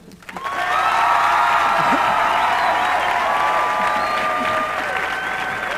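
Applause and cheering break out from a large audience at a 1992 gospel Praise Gathering, rising quickly to a loud sustained clapping with whoops and shouts mixed in, tapering slightly toward the end.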